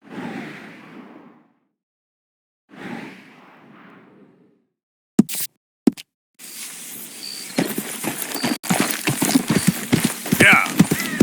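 Horse hooves clip-clop in Red Dead Redemption 2, starting at mid-clip amid clattering game sound and building to a busy, moderately loud run of steps. Voices talk early on, before the hooves begin.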